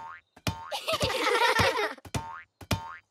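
Cartoon ball bouncing in a children's animated show, several springy boing sounds in quick succession, with a burst of playful cartoon clatter in the middle, clear and close.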